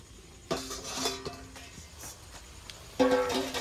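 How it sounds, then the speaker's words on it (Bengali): A metal lid lifted off a cooking pot in a home kitchen, with two clear metallic clanks and ringing scrapes, one early and one near the end, plus a faint clink between, fairly close. "ঢাকাটা তুলে নেব"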